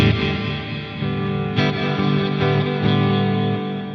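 Eventide H90 pedal running a delay effect with the reverb turned fully down, a sustained distorted guitar tone with repeating echoes, loud and continuous with a few sharp note attacks.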